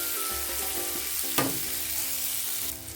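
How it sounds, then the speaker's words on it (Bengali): Boiled potatoes fry in oil with turmeric, giving a continuous close sizzle. A brief scrape of stirring cuts through partway, and no one speaks over it. "আলুটা লাল করে ভেজে নিতে হবে"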